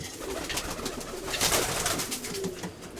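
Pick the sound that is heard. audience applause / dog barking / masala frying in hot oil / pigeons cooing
pigeons cooing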